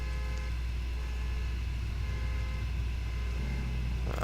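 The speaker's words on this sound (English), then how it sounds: "I'm hearing car, and I'm hearing some car alarms." Steady low engine rumble of a car in GTA IV, with a constant loud drone and no distinct pass-by peak, city traffic hum beneath.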